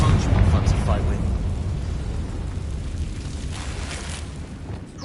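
A Confringo blasting-spell explosion in Hogwarts Legacy, a heavy booming burst at the start that settles into a low rumbling roar, with a voice briefly heard.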